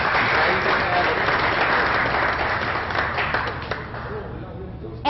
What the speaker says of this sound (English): Please give Cliff a round of applause.